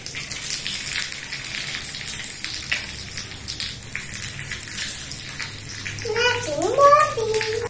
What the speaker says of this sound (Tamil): இப்போ நல்லா வதக்கலாம்.